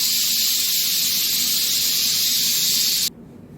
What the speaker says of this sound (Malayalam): വിസിൽ കേട്ടോളൂ.